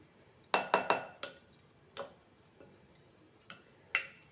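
Mango rice being mixed in a pan, heard as a handful of sharp metallic clinks and scrapes of a spoon against the vessel: a quick cluster at first, then a few isolated taps, quiet and close.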